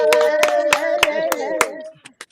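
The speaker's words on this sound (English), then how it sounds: "clap your hands for her, y'all" An audience claps for Pastor Mary Anderson, the hand claps coming in a slow, regular beat about three per second under a sustained singing or speaking voice, then thinning out to a few scattered claps at the end.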